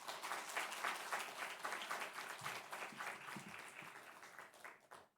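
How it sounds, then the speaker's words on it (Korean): A church congregation at a Sunday afternoon worship service claps steadily in welcome, a soft, dense patter of many hands heard from a distance that holds for several seconds before fading out. "나오실 때 큰 박수 부탁드리겠습니다."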